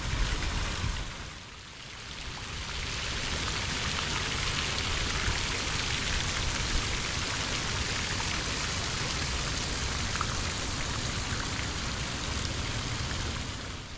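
Water pours steadily from the water feature at The Old Mill in North Little Rock, Arkansas, in a dense, continuous rushing splash. It dips briefly near the start and then stays loud and even, with no voices.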